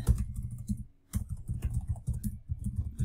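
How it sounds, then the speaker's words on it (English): Fingers tap steadily on a computer keyboard, a close, continuous patter of quick keystrokes with one brief pause, and no voices over it. "So I'm going to type in that."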